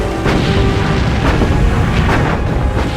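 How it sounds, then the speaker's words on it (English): A kamikaze plane's bomb detonates in the water beside a warship under gunfire, a loud, dense, rumbling blast roar with repeated heavy booms and bursts across the whole stretch. "But its bomb detonates in the water, spewing killing shrapnel over exposed areas of the ship."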